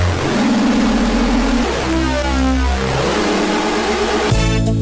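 A messy, heavily detuned FM bass synth patch from Serum for neuro drum and bass, a loud, dense, buzzing growl that shifts pitch in steps, sustained and alone.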